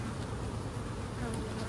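Honey bees swarm inside a hive's honey super, making a dense, continuous close-up buzz that holds steady and loud throughout with no voices.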